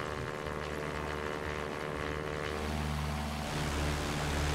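Simulated Cessna 172 single-engine propeller plane climbing out after takeoff in X-Plane 11, a loud, steady droning engine hum with a constant pitch that swells slightly toward the end, heard alone without talk.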